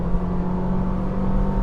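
Suzuki Baleno with a 1.4 litre, 91 brake horsepower petrol engine, heard as a steady loud engine drone and hum with a constant low tone throughout, no talking.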